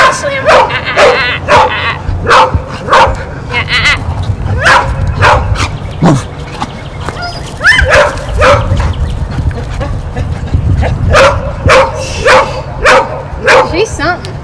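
Several shelter dogs play roughly together, letting out repeated yips, barks and whimpers in bursts, close by, with people chatting over and between the noise.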